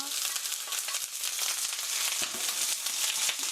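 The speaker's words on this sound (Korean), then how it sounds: "노릇노릇 브라운 색깔이 될 때까지 볶아주세요." Chopped onion and garlic fry in a pan with a steady, close crackling sizzle and scattered pops throughout, no voices heard.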